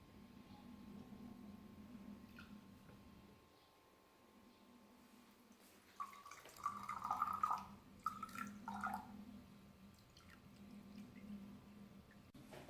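Water being poured into a pot and into a glass jar for a colligative properties chemistry experiment, heard as quiet trickling and splashing near the middle, with a faint steady hum running throughout.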